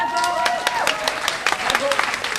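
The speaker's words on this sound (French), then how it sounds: "Alors, applaudissez-vous très très fort." Audience applauding loudly at a summer festival's closing gala in Jonquière, a dense burst of crisp claps while a voice and some tonal sound carry on over it.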